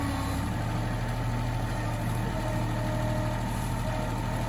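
A Kubota digging machine idles steadily while working on a sewer line, a constant low engine drone that stays even throughout with no pauses.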